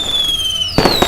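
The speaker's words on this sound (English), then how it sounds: "I woke up later to the sound of explosions perforating my eardrums." Fireworks explosions with sparklers and Roman candles: a whistling rising tone followed by several sharp, loud bursts in quick succession, with no talking.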